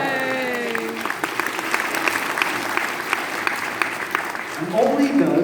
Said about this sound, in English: Give it an applause.